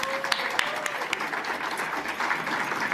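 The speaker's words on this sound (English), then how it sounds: "of course, a round of applause" Audience applause at a conference on the human dimension of Ukraine's peace formula, with dense steady clapping from a room of people sustained through the whole stretch at moderate level.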